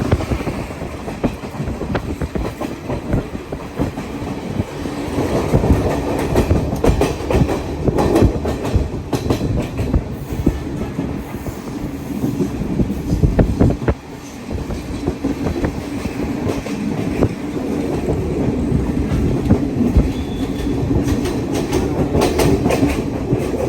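A train at Kandy railway station in Sri Lanka rumbles and clatters loudly and continuously, with wagon rattles and scattered metallic knocks and no one speaking.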